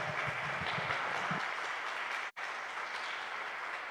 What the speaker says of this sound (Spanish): Le damos un fuerte aplauso a René